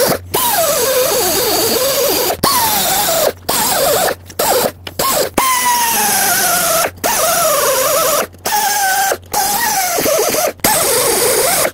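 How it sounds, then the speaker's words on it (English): A power tool cuts through an upper control arm bushing on a Chevrolet Express van, making a loud, close, grinding whine that wavers in pitch and breaks off in short gaps as the cut goes on. "cutting this bushing here so I can have access to this part of the control arm"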